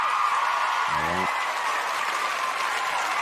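A round of applause from a gathered audience, a steady wash of clapping that holds evenly throughout, with a brief tonal voice-like sound breaking through near the start.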